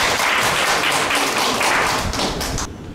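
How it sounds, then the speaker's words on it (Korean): A seminar audience gives a burst of loud, close clapping, with dense individual claps blending into applause that fades slightly near the end. "열심히 해달라고 박수 한번요"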